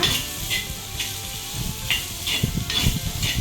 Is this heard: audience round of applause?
no